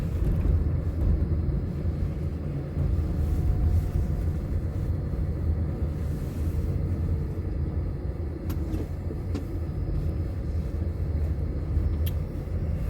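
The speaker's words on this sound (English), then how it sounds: "we're pulling into the car wash now." A taxi car rolls slowly into a car wash, a steady low engine and road rumble filling the cabin with a couple of faint clicks near the end.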